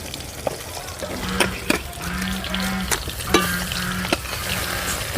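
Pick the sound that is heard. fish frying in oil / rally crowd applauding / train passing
fish frying in oil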